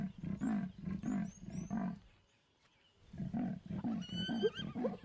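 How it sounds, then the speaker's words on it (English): A male lion in the African wild gives a series of low, rasping roar-grunts in two rhythmic bursts separated by a short pause, close and resonant, with birdsong chirping faintly in the background. "He calls her, hoping that she hasn't gone far."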